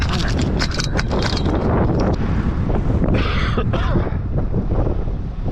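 Strong winter wind roars across the microphone while snow is cleared with a Kubota SVL75-3 compact track loader, a loud constant buffeting rumble with faint mechanical clanks underneath.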